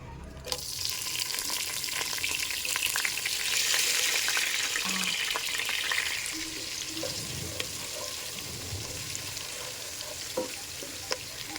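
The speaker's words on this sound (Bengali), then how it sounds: "এখন হচ্ছে গরম মশলাগুলো দিয়ে দিব, দিয়ে পেঁয়াজ দিয়ে দিব, দিয়ে হালকা করে ওগুলাকে ভেজে নিব।" Garam masala and onion frying in hot oil in a home kitchen pan for chicken biryani, a steady loud sizzle that swells and eases, with occasional stirring scrapes and soft knocks.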